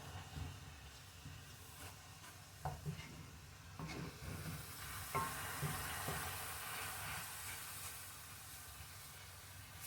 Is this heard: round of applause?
no